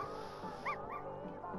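A puppy in The Sims 4 gives short yips and whimpering barks, fairly close and clear over a steady game music bed, with a couple of brief rising cries in the middle.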